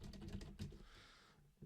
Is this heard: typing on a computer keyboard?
yes